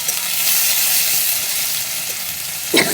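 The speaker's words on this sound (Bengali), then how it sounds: "আর দিয়ে দেবো কাঁচা লঙ্কা, তার সঙ্গে পেঁয়াজটা দিয়ে দিচ্ছি। তেলটা খুব গরম হয়ে গেছে।" Onion and green chili hit very hot oil and sizzle loudly and steadily, with a brief clink near the end.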